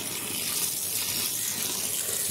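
Water runs steadily from a tap as grated potatoes are washed, a loud, continuous close-up rush with no talk.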